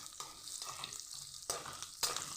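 Finely chopped onions sizzle in a pan on high heat while being stirred, a steady close frying hiss broken by a few scraping stirs, with no talk.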